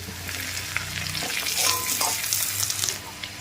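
Garlic goes into potatoes and onions already frying in a pan, giving a steady close sizzle with occasional stirring scrapes and no talking.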